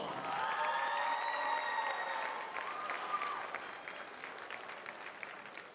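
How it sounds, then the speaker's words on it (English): A crowd applauds and cheers steadily at a high school girls' basketball senior night, Lady Panthers vs. Loudon. The clapping is dense and sustained throughout, fading slightly toward the end. "Let's hear it for Alex Perlon."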